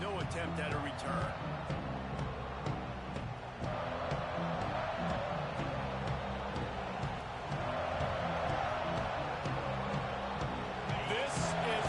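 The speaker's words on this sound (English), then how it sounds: "This crowd ready to make its presence known." Dense, steady roar of a packed football stadium crowd, loud and continuous throughout with swelling cheers, while a broadcaster talks over it.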